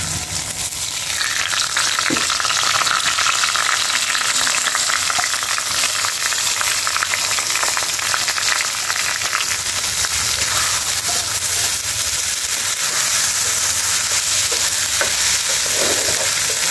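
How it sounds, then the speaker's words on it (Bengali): Rice fries in hot oil with bay leaves and whole spices for pulao, a dense continuous sizzle with occasional stirring scrapes, close and steady throughout with no talk. "চালগুলো আমি ভালোভাবে কষিয়ে নিয়েছি।"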